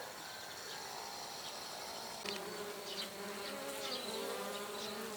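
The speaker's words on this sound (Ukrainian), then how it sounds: "А бджола працює, йдуть важкі." Bees buzz steadily around a wooden log hive in the early evening, a dense close swarm hum that holds the whole time with no voices.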